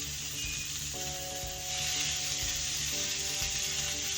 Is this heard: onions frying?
yes